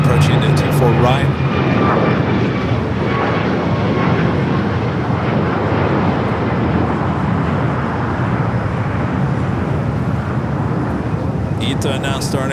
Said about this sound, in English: the Dreamliner approaching the 24 right